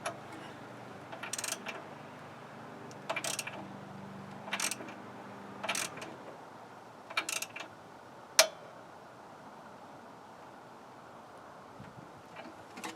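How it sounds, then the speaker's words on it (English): Socket wrench snugging a spark plug on a Storm Cat two-stroke generator, with short bursts of ratcheting clicks in a halting rhythm, close and fairly quiet, followed by a sharp metallic tick and then near silence. "then we'll use our socket wrench and just snug it up"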